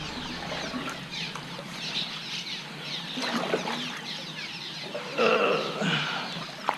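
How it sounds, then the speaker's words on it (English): Birds disturbed under a bridge over stinking water, heard from a paddled fishing boat: fluttery bursts of wingbeats and scattered squawking calls, fairly close, growing busier and louder toward the end. "the birds, it always displeases them when you go under there"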